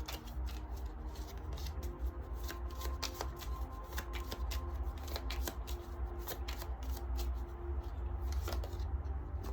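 Oracle cards from the Runner George deck being shuffled, with a steady, soft, close riffling and flicking of cards that runs continuously and quietly throughout.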